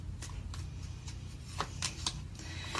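Tarot cards being shuffled and drawn, with a steady series of soft papery slaps and flicks in an irregular rhythm, close by with no talking.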